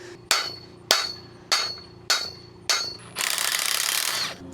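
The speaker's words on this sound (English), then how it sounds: "why we use the impact on the nut, not the bolt" A cordless impact wrench on a nut while fixing a swinging dock outdoors, with five evenly spaced sharp hammering bursts, then a steady sustained rattling run of about a second, loud and close.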